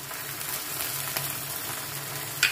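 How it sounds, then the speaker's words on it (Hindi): Onions frying in a pan with garlic ginger paste just added, a soft steady sizzle close by and fairly quiet, with a light clink near the end. "प्याज हमारा अच्छा सा फ्राई होना शुरू हो गया"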